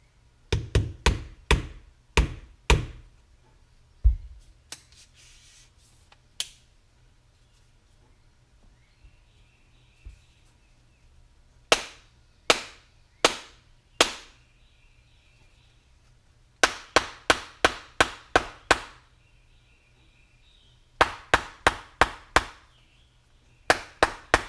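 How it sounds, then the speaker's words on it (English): Sharp hammer blows drive a telescoping GoPro mount into place, striking in quick bursts of several loud, close knocks separated by quiet pauses. "I'm gonna hit that with a hammer."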